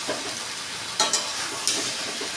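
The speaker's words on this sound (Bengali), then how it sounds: "এবার এটাকে ভালো করে একটু কষতে হবে যাতে মশলার কাঁচা গন্ধটা যতক্ষণ না চলে যায়" Spice masala is sautéed and stirred in a pan for a Jagannath bhog dish, a continuous bright sizzle broken by a few sharp spoon-scrape clicks, loud and close with no voices.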